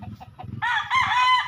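A rooster held in hand gives a few low clucks, then breaks into a loud, harsh squawking call close by.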